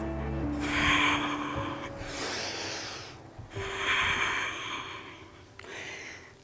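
Long, loud breaths sound close during a dynamic yoga session, with several drawn-out inhales and exhales in a slow rhythm.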